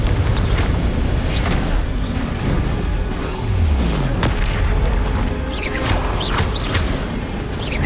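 Confringo fire spell blasts in Hogwarts Legacy, a string of booming explosions with crackling fiery bursts and whooshing streaks, loud and dense throughout with no talking.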